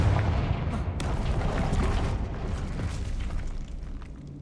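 A Confringo explosion spell is cast in Hogwarts Legacy. It makes a loud, dense, rumbling blast that fills the whole clip, with sharper cracks over it, then eases slightly toward the end.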